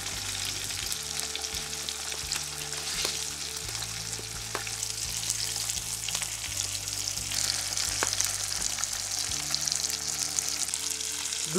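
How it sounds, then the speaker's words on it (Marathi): Rava-coated tilapia fish frying on a flat tava, a steady close sizzle and crackle running throughout with a few faint knocks of a utensil. "एक बाजू साधारण 5 मिनटं फ्राय केली आहे आणि चिटकलीसुद्धा नाही आहे"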